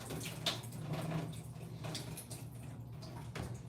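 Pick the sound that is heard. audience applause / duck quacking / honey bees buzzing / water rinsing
water rinsing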